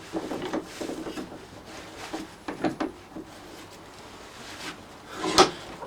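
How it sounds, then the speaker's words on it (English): An old filter is clamped in a big mechanical engineer's vise, with scraping and rubbing metal-on-metal handling noises, a few soft knocks and a sharper clank near the end. "Clamp it in the vise."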